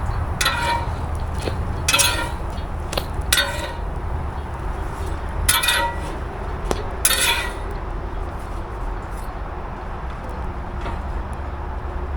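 Cutlery scraping and clinking against dishes while French toast is plated at a campsite beside a Camp Chef griddle: a series of irregular metallic clinks and scrapes, close and fairly loud, over steady outdoor background noise, with no talking.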